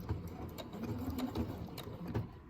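Sewing machine running steadily while stitching in reverse, a continuous mechanical whir with rapid rhythmic needle ticks, close and moderately loud, with no talking.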